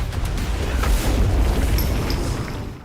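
A follow-up explosion in an action film: a loud, sustained blast rumble with broadband roar that stays heavy for nearly three seconds before easing off at the end.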